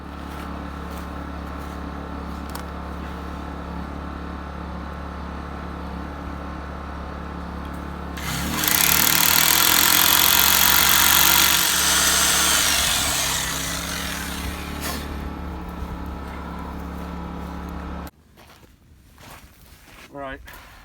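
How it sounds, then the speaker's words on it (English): A loud, grinding rock drill bores a hole in rock for about ten seconds over a steady background hum, then tapers off before stopping abruptly. "All right, got the hole drilled."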